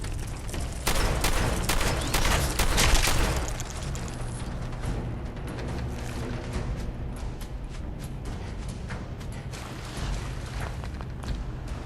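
Dense bursts of gunfire from the Fallout 4 video game, loudest and most clustered in the first few seconds, then settling into a steady rumble of scattered shots and mechanical clatter.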